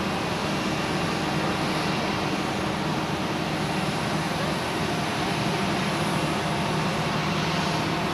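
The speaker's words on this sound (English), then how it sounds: "we have a flight to Washington, which is the A330 now on the runway" Airbus A330 bound for Washington on runway 16 at Zurich Airport, a steady broad jet engine roar holding loud and even throughout with no talk.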